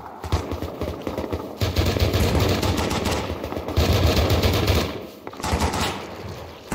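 Rapid automatic gunfire in the survival game Rust during a big raid, dense loud bursts of shots with brief pauses between them, no talking.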